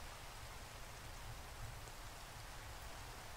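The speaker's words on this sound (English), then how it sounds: "I'm standing out here in my tree farm at night during a rainstorm." Steady, faint hiss of rain falling during a nighttime rainstorm in the Minecraft video game, an even wash of noise with no other sounds.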